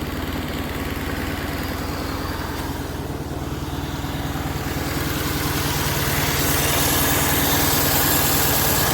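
A motorcycle's small engine-driven air compressor runs at a steady idle, building pressure, with a throbbing mechanical rhythm that grows slightly louder toward the end.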